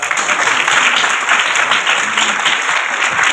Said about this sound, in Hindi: एक बार तालियां बजाकर इनको थैंक्स कह सकते हैं